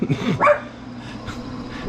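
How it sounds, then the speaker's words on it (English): A single sharp dog bark close by, followed by a short quiet stretch with faint background noise. "Oscar started barking"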